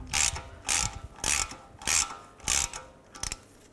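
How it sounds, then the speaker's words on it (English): Ratchet tightening the ball joint bolts on a 2003-10 BMW X3's front lower control arm, five quick bursts of close metallic clicking separated by short pauses, no talking. "Take the 2 bolts. Let's just get these started. All right, try to tighten these evenly"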